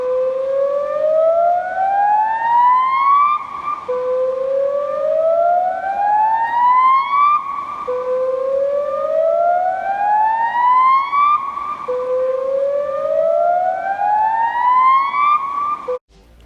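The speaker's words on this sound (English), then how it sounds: "So that is the 2017 Barber's Hole generic siren footage of it." A civil defense siren of the Barber's Hole siren system, recorded in 2017, winds up in four loud repeating rising wails, each climbing steadily for a few seconds before dropping back, heard alone without talk.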